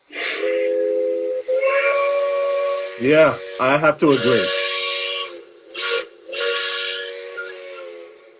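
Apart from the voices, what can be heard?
quilling steam whistle of model train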